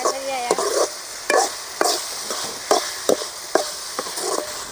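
Amaranth greens (arai keerai) sizzle in a hot pan with cooked tomato while a utensil stirs and scrapes them in repeated bursts, roughly once every half second, up close.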